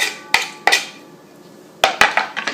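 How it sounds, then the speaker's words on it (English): Chopped onion is tipped into a mixing bowl, with a few sharp clinks and scrapes of utensil against the bowl, close and fairly loud, in two short bursts around a quiet pause. "Onions are chopped, so let's add this to our bowl."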